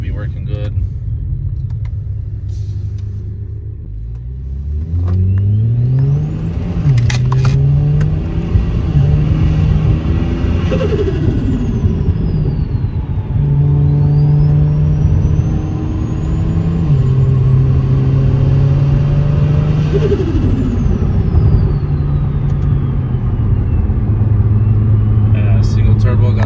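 A single-turbo car engine revs repeatedly, its loud rumbling note sweeping up and falling back in several long pulls, close and continuous with no talk over it.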